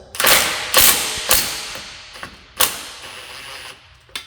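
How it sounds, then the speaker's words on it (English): An impact wrench loosens a strut bar bolt on a Cadillac ATS-V, heard as loud, close bursts of rattling hammering, several separate hits spaced over a few seconds, with no talking. "I'm just using an impact just to loosen up the bolt."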